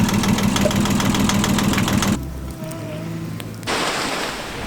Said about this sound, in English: Excuse the engine noise, we're charging the batteries, it's been overcast for a couple of days.